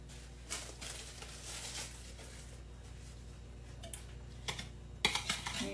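Softened butter creamed with a whisk in a bowl, a soft quiet tapping and patter of wires against the bowl, faster and more clattery toward the end.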